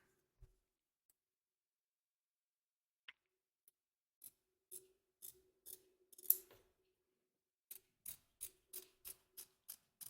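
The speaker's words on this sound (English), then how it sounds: "It's time to trim our fabric or fabrics." Scissors trim quilted fabric for a collapsible bowl, giving close, quiet snips: a few scattered cuts, then a steady run of crisp, evenly spaced snips toward the end, with no talking.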